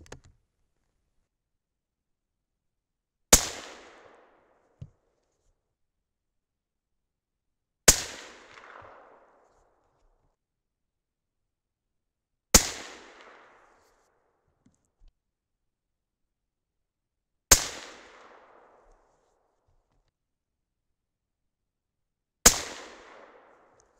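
Five loud 6.5 Creedmoor rifle shots fired with Remington 7.5 primers ring out, evenly spaced about five seconds apart, each a sharp crack trailing into a short echo over otherwise near silence.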